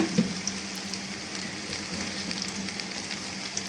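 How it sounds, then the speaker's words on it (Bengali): Thinly sliced radish frying in oil in a pan for a Bengali mula dish, a steady close sizzle with light stirring noises. "পাতলা করে কেটে রাখা মূলাগুলো দিয়ে ভালো মতো একটু কষিয়ে নেব"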